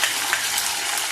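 Masala frying in hot oil for a pomfret fish curry, a steady close hiss of sizzling with faint scraping, no voices.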